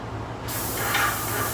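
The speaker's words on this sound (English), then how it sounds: "And then we spray the edges." A spray gun sprays the edges of cabinet doors, starting with a quiet lead-in, then a sudden loud, broad, steady hiss that runs to the end, close and alone.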